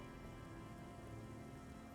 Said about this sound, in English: It was raining really hard.